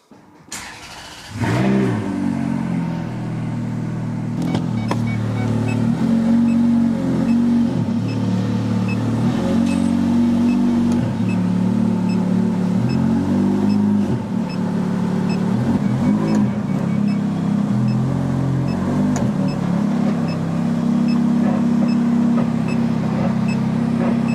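A Ferrari F430 with a dry-sump engine, in a garage for an oil change, starts up after a brief pause, then idles loudly and close by with occasional small revs as it is reversed.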